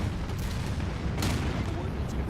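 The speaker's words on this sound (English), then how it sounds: "And another giant explosion, please." A giant nuclear explosion in the video game Anno 2205 rolls out as a dense, steady roar of low rumble and broadband noise that holds for a couple of seconds without a clear single blast.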